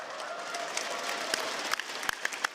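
A crowd at a live event claps and applauds after a map announcement, with steady dense clapping and a few sharper nearby claps standing out.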